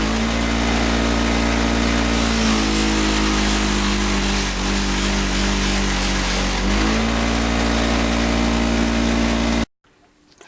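Buffing wheel polishing an aluminum master cylinder, a loud, steady motor whine with a droning hum that dips briefly as the part presses against the wheel, then stops abruptly near the end.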